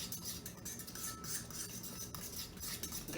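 Ingredients being mixed in a bowl by hand, soft scraping and clinking of a utensil against the bowl in uneven strokes, quiet and close, with no talking.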